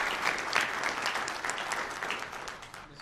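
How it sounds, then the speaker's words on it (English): Steady applause from a meeting audience honoring three employees at a Texas Board of Criminal Justice session, a dense continuous clapping that holds for about three seconds and slowly tapers. "let's give one more round of applause for all 3 of these employees"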